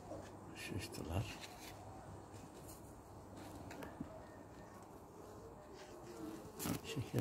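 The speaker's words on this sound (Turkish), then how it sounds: "Bal yapıyorlar arılar." Bees buzz close by around a fig tree in a low, continuous hum, with occasional soft taps and faint voices in the background.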